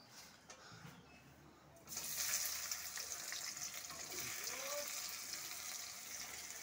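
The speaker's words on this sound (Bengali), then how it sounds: "এবার আমি পেঁয়াজটা দিয়ে দেব।" Onions drop into hot oil in a pan with bay leaves and burst into a loud, steady sizzle that jumps up sharply partway through and then keeps crackling evenly, with no talking.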